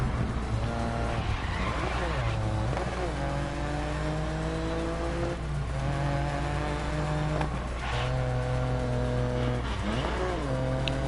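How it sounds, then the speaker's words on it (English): A race car in the Grid Legends racing game screams through repeated upshifts, its engine pitch climbing and dropping in a steady cycle, with tire squeal and skidding layered over the loud, close revving. "Man, that engine sound is so good."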